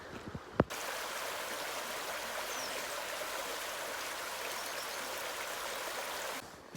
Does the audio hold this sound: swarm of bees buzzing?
no